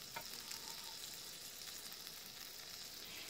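Minced shallot frying in hot butter over medium heat: a faint, even sizzle with a brief clink near the start, continuous and unaccompanied by speech.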